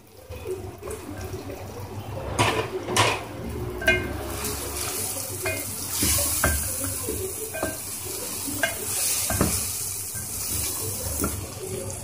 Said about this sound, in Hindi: ये मसाला मैंने बहुत अच्छे से भून लिया अब इसमें मैं फ्राई की हुई धनिया शामिल कर दूंगी